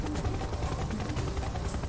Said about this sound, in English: That stupid helicopter is going to be the death of me here.